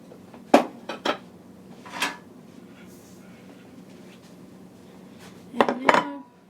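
A butter dish and other kitchenware are set back down with a few scattered clinks and knocks, a pair early on and a louder double clatter near the end, with quiet gaps between.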